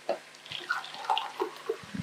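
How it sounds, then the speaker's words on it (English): Water is poured from a measuring cup into a pot of washed rice in a home kitchen, making brief close gurgles and splashes that are quiet and uneven. "So we are going to add 4 cups of water."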